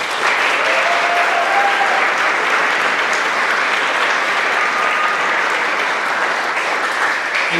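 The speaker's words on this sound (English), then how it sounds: "one more round of applause for our 5th grade" A crowd at a fifth grade graduation ceremony gives a loud, steady round of applause, with dense clapping that holds at an even level for the whole stretch.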